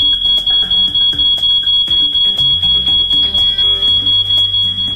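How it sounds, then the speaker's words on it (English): A false alarm blares continuously, a loud, piercing high electronic beeping pulsing in rapid rhythm over a busy low rumble of background noise. "Don't worry, it was just a false alarm."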